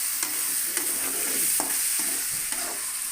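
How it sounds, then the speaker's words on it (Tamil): Vegetables frying in oil being stirred, a bright steady sizzle with spoon scrapes against the pan about every half second, close up and uninterrupted by talk. "நல்லா கிளறி விட்டுருங்க."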